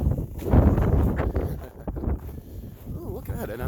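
Strong gusting wind at 40 to 50 km/h buffets the microphone outdoors, a loud rumbling roar that swells and eases, with a person's voice talking over it.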